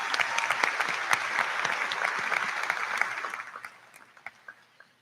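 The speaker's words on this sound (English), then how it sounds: "give yourself a round of applause" Graduation audience at Emmaus High School's 2021 ceremony claps in a full, sustained burst that thins out toward the end into a few scattered, isolated claps.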